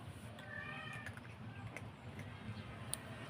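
A house cat meows indoors, giving several soft, high mewing calls over a low background hum, with a faint voice in the room.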